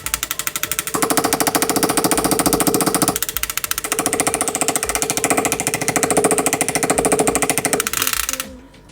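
Rapid mechanical hammering sets a stone in a ring, a fast steady pulsing tap delivered in long runs broken by short pauses, close and loud.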